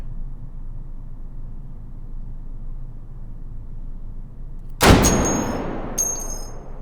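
A single loud scoped-rifle shot rings out in the VR shooter H3VR, aimed at a watermelon target, cracking sharply after a quiet hum, with a long decaying tail and a fainter second impact a second later.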